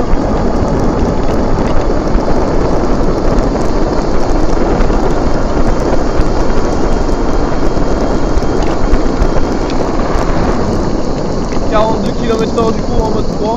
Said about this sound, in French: on va tellement vite qu'il y a beaucoup de vent, hein, malgré le micro.